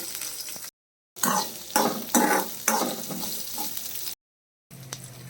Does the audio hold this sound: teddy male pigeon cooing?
no